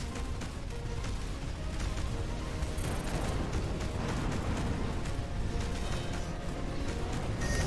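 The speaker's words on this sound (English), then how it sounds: "The space station has been destroyed." A dense, continuous roar of explosions and crackling blasts as a space station is destroyed in the video game Between the Stars, loud and sustained throughout with no pauses.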